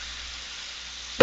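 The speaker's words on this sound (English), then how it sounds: "I'm going to go ahead and add a little wine now, and that doesn't take a lot. What we're trying to do is simply deglaze the pan." White wine hitting a hot pan to deglaze it while cooking scampi, giving a steady faint sizzle that ends in a brief louder burst.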